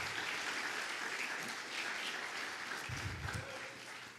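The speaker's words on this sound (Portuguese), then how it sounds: "aplauda Jesus" A church congregation applauds in worship with a steady wash of clapping from many people that tapers slightly toward the end, and faint voices rise briefly beneath it.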